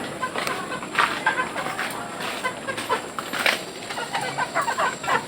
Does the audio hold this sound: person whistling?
no